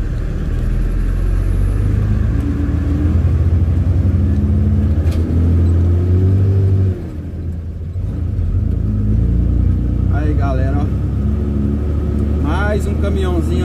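An old small truck driving along the road at night, its mid-pitched engine rumbling steadily and loud throughout, dipping briefly partway through before surging again, with someone talking over it.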